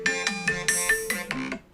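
A phone ringtone plays a short, bright melodic chime of about eight rapid tonal notes, clear and alone, ending within two seconds.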